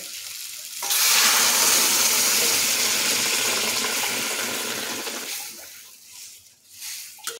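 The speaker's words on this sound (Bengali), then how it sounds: "আলুটা কষানো হলে এর মধ্যে দিয়ে দিচ্ছি গরম জল" Hot water pours onto sautéed potatoes in a pan, a loud rushing hiss that starts suddenly and holds for several seconds before fading into softer bubbling and sizzling, close up with no talking.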